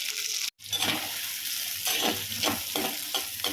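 Garlic, onion and green chili sauté in a clay pot with a loud, continuous sizzle. Stirring scrapes sound again and again through it, and there is a brief break near the start.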